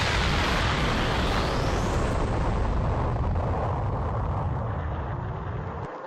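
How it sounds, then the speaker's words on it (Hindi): A huge, sustained roaring blast from an animated fight scene fills the clip, loud and dense, slowly fading toward the end. "वहां पर बहुत बड़ा धमाका होता है।"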